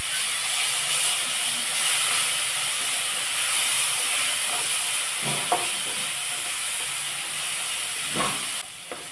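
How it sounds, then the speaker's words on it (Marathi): Ground green chili paste fries in hot oil for okra bhaji, a continuous soft sizzle and hiss with a few brief clinks of a utensil against the pan near the end. "ह्याच्यात हिरवी मिरची आहे ना म्हणून हे तेलावर छान भाजून घ्यायचं आपल्याला"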